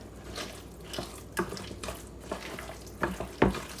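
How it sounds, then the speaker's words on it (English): Drained pineapple is dumped into a mixing bowl, giving a few soft, wet plops and clatters close by, spaced irregularly over a quiet kitchen background. "I have my drained pineapple, so I'm just going to dump that in"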